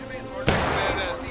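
A musket volley in the Civil War game War of Rights, heard as one loud, sudden crack of many guns firing together, followed by a rolling rumble that fills the rest of the moment while voices talk underneath.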